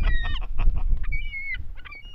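Geese honk repeatedly at an ice-fishing spot on Sturgeon Bay, a flock of calls overlapping in quick succession against wind noise, fairly near and loud.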